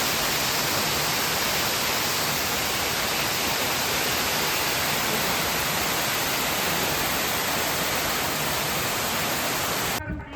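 The waterfall at Vattavada near Munnar pours in a loud, dense, unbroken roar filling the whole stretch, steady and close, and it cuts off abruptly right at the end.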